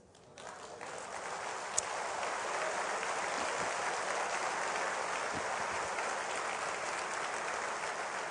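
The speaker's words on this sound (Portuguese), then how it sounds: "ele vai receber o nosso aplauso agora" Church congregation breaks into applause during a sermon, a broad, steady wash of clapping that swells after a quiet start and holds evenly for several seconds.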